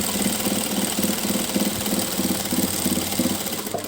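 A sewing machine runs steadily as it stitches a trouser hem, its rapid needle rhythm pulsing in even bursts close up with a continuous motor hum and no voices.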